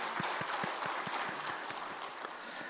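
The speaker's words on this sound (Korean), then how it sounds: "박수 한번 주시죠." A church congregation claps together at a Sunday afternoon service, a moderately loud, even patter of many hands with a faint steady rhythmic beat running underneath.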